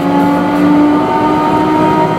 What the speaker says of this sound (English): you can hear the hydraulics start to whine, and we're starting to speed up